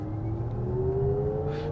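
Synthetic drive sound piped into the Lexus RZ 300e electric SUV in sport mode on a twisty road, a steady low hum with a slowly rising whine as the car accelerates, continuous and close.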